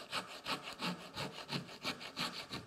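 A rasp works a carved wooden scoop in steady back-and-forth strokes, about eight even rasping passes, close but soft, with no voices.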